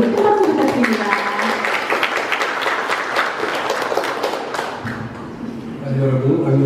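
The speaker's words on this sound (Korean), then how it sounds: "여러분 큰 박수 부탁드립니다" Steady applause from an audience at a gallery opening ceremony for an international exchange photo exhibition, dense clapping close and continuous before thinning out near the end.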